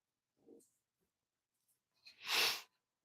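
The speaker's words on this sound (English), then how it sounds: "I had a sneeze coming on." A single sharp sneeze, preceded by a small catch of breath, close and alone in an otherwise quiet room.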